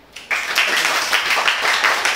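An audience at a business seminar on AI and law breaks into applause after a brief quiet moment, then claps steadily and fairly loudly with a lively, irregular patter.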